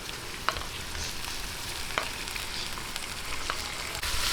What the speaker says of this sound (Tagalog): medyo lang po ating gisa-gisahin hanggang sa medyo mag-light yung ating liempo